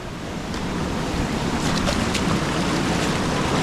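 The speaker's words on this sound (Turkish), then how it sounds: "Su maşallah gurul gurul akıyor" Stream water rushing and gurgling outdoors in Bitlis, a loud, steady broadband wash heard close and unbroken, with no speech.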